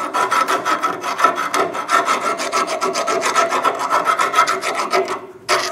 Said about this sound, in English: I'm going to go ahead and run a round file through the inside